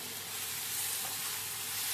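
A paste of ground cashew, poppy seed and coconut frying and being stirred in a pan, giving a steady, even sizzle that holds close and moderately loud throughout with no voices.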